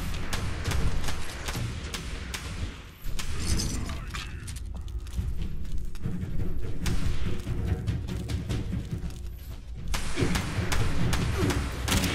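Grenade blasts in the post-apocalyptic shooter Fallout 76 land as loud, dense crashing impacts, with a sharp burst near the start and another around ten seconds, over continuous game noise and no voice.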